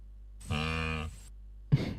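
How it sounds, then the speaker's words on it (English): Cows mooing in a Roblox game at a launch complex village: one drawn-out, loud low moo, then a brief silence and the start of another sound. "You continue to hear some cows moving in the background"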